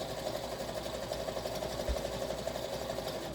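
A sewing machine runs tacking stitches through polyester wadding, a steady rapid mechanical whirr and needle clatter, close and continuous throughout, with no voices.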